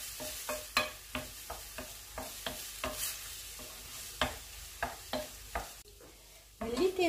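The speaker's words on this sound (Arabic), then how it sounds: "وغادي نرمي فيها الحوت وغادي نبقى كنشحر فيه حتى يطيب" Fish being stirred and sautéed in a pan, with a spoon scraping and knocking in a steady series of sharp strokes over a soft sizzle, close and fairly quiet, with no talking.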